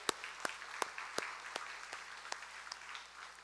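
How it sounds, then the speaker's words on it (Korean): A church congregation gives a round of applause during a Sunday worship service, a steady wash of many hands clapping with a few sharper individual claps standing out at a moderate distance. "모든 우리 성도님에게 축복의 박수를 하고 있습니다"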